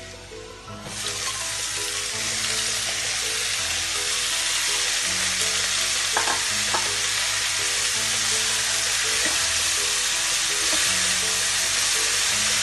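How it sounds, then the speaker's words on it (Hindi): Spinach for saag paneer hits a hot pan and bursts into a loud, dense sizzle that holds steady, with a few stirring clinks and scrapes and no voices. "अब इसमें हम पालक को डाल देंगे।"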